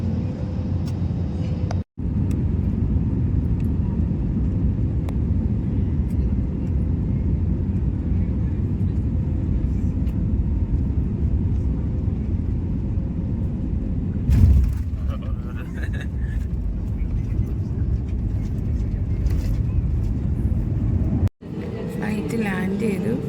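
A passenger jet lands, heard from inside the cabin on a flight to Kolkata. A loud, steady engine roar and rumble carries on throughout, with a brief bump partway through and low voices beneath.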